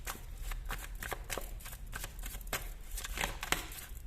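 Tarot cards are shuffled close by in quick, papery riffles and flicks, a rapid rhythmic run of crisp bursts with no voices.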